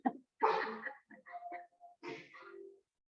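A person sneezes during a Pilates class, a short sharp burst followed by a few softer breathy sounds and brief throat noises, close and fairly quiet.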